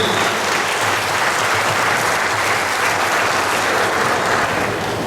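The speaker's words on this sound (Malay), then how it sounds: "kita bagi satu tepukan yang paling gemuruh daripada rombongan kepada yang berhormat Tan Sri" Rally audience at an UMNO political gathering in Gombak breaks into loud, thunderous applause, a dense continuous wash of many hands clapping steadily throughout.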